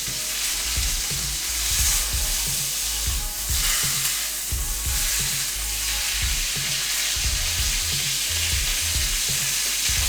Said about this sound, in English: sear it on each side.